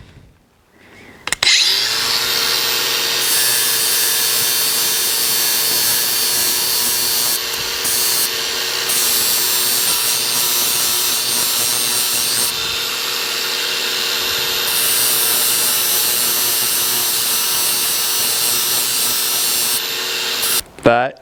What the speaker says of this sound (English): let's grind it down.